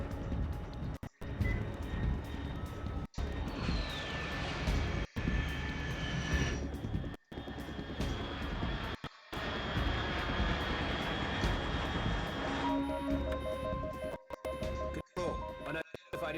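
Aircraft engine drone from a plane flying overhead in the video game Metal Gear Solid 3, a sustained roar with a high whine, broken by several short gaps and overlaid with radio-style dialogue.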